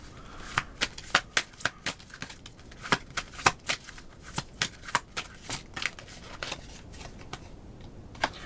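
Self-care cards are shuffled by hand for a card reading, giving a steady run of crisp, close riffling snaps at an uneven rhythm with brief pauses between them.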